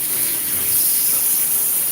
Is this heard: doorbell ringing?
no